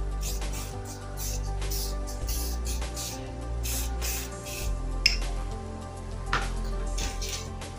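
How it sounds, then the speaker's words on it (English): Face oil misted from a spray bottle during an everyday makeup routine, with two brief soft spritzes partly masked by steady background music. "Then I'm gonna use this above oil to just spray it a little."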